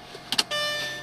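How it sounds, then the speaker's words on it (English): Power windows on a Mercedes CL55 AMG W215 closing, with a couple of quick clicks followed by a steady electric motor whine from inside the car, moderately quiet. "Windows close."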